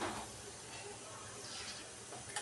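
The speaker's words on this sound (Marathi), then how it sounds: "आता मोहरी घालूयात एक चमचा" Mustard seeds hit hot oil in a kadai for tempering a veg dum biryani, giving a steady close hiss and crackle that holds through the whole moment, with a brief louder pop near the end.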